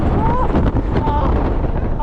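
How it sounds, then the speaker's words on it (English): Strong wind buffeting the microphone on a Kraken fair ride at night, loud gusty rumble throughout with brief faint voices underneath. "So much wind."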